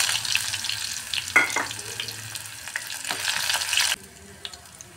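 Dried red chillies and a few pieces of garlic sizzle in hot ghee for a spinach dal tadka, a bright crackling fry with stirring clinks, close and loud before dropping suddenly quieter near the end.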